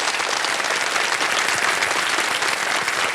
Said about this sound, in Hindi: ताली बज जाए इनके लिए।